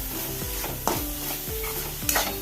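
A spatula stirs a bitter gourd stir-fry (thoran) in a pan, giving several rhythmic scraping strokes over a soft steady sizzle, close and moderately loud, with a couple of sharper clinks against the pan.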